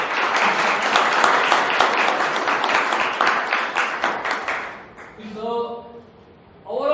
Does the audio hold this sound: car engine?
no